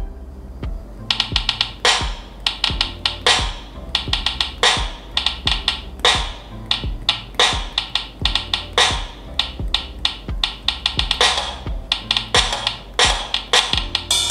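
A drum app tapped out on a Samsung phone and heard through its mono speaker, giving thin, tinny kicks, snares and cymbal hits in a steady, busy groove with no voices.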